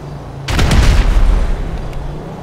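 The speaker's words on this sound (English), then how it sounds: "That is how you throw a grenade while aiming in GTA Online." A grenade blast in GTA Online: one sudden loud boom with a rumbling tail that fades over about two seconds, with no voices.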